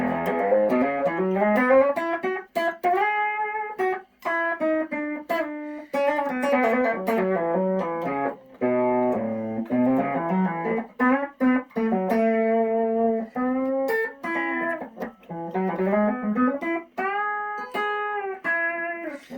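A distorted electric guitar, a Squier with a hand-wound Crazy Jack pickup played through a DIY Fuzz Face pedal, plays a melodic line of sustained, thick notes with a gritty, saturated tone, no voices, at moderate volume.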